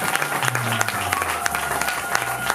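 Church congregation applauding during a Sunday prophetic service, a dense sustained clapping from a crowd filling the room, close and steady throughout, with voices mixed in underneath.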